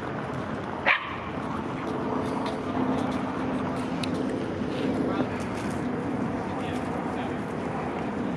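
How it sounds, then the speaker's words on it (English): A cold puppy gives a single short bark near Turtle Pond in a park in winter, brief and fairly distinct above steady outdoor background noise. "That's a sad, cold puppy."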